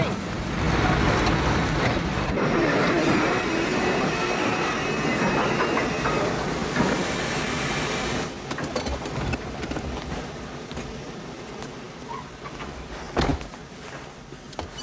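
Train running on rails in a film scene, a loud continuous rumble and rattle of wheels and carriages for most of the stretch, then easing off with scattered clanks and a sharp knock near the end.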